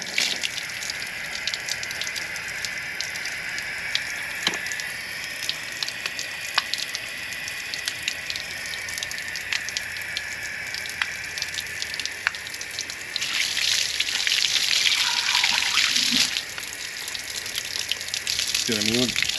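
Water gushes steadily out of a drained tank on a water coach while the high pressure limit is opened, a continuous hiss with a louder, denser surge near the end and faint clanks.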